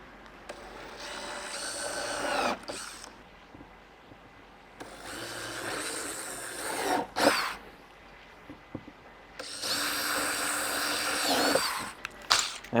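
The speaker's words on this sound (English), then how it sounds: "drill all of those out with the center drill." A power drill with a center drill bit whirs in three separate bursts, each a few seconds long with short pauses between, drilling holes close by and fairly loud.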